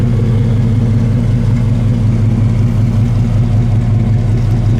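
A 1967 Chevrolet Chevelle SS engine runs steadily at a smooth idle, a loud, continuous low rumble with an even throb and no voices.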